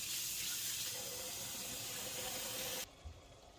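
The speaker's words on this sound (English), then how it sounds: "the brine is actually boiling" Steady, loud bubbling hiss of brine boiling in a pot, cutting off abruptly near the end, followed by quiet.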